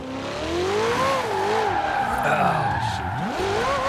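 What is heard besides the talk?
Ferrari car revving and skidding in Forza Horizon 4 video game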